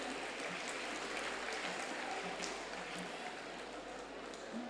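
Prize-winning children at a school annual day in a large venue receive sustained, dense applause from a big audience, steady and unbroken throughout.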